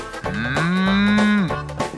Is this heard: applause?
no